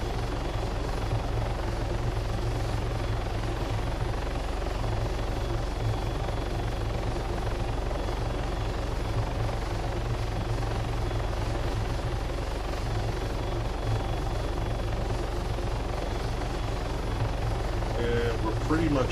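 A helicopter in the ARMA 3 video game drones steadily and loudly for the whole stretch, its rotor and engine forming a constant hum with faint voice chatter underneath.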